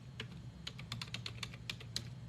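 Fingers tap quickly on a computer keyboard in an irregular run of light, crisp clicks, close by over a steady low hum, with no voices.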